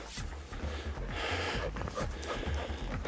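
Dogs on a forest walk pant close by in quick, rhythmic bursts of short breaths, with a few snorts and rustles mixed in. Nobody speaks.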